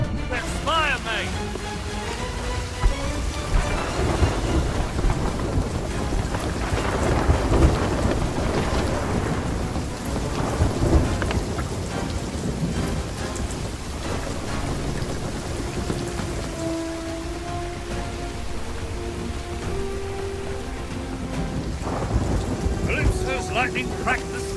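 A storm in the video game Sea of Thieves: steady, dense rain drums on surfaces while thunder rolls and cracks through it, joined by a voice and tonal game music layered over the downpour.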